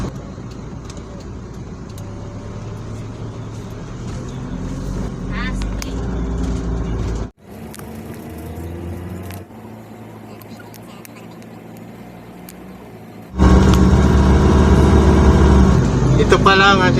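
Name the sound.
road traffic in Better Living, Parañaque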